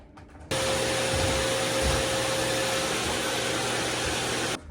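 A vacuum cleaner switches on and runs at a steady, loud, whining roar while cleaning a room in a newly moved-into home in Japan, then cuts off abruptly.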